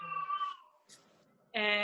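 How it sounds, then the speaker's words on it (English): A cat gives short, high, whistle-like cries, two squeaky calls separated by a brief quiet gap, close and fairly faint. "Somebody's whistling in the background. I think it's my cat."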